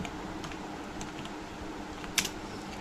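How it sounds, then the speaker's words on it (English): Manual typing on a computer keyboard, a steady run of soft, close key taps with one sharper click near the end, no talk over it. "although we are typing this out manually"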